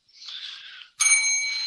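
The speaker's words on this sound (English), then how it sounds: "I gave him a bell on his famous tagline to get us out of here" A bright bell rings as a sound effect on a sports talk show: a brief ding, a short pause, then a louder, sustained ringing tone that hangs clearly with no talking over it.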